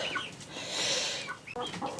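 Young chicks peeping in a tote, rapid high chirps and cheeps overlapping close by, fairly loud against a soft background, no talking.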